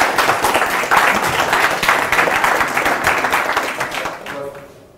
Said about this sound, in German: Wo ist der Applaus?